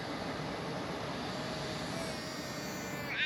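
Fixed-wing airplane engine roaring overhead near an air museum in Topeka, Kansas, a steady broad continuous drone holding level throughout with no talk.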